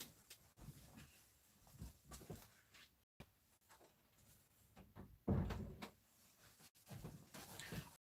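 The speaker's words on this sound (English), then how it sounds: "I'm going to just hop over and close the door so they don't get loud." An indoor door being pushed shut, shuffling movement and handling noises followed by a firm thud partway through, then quieter rustling.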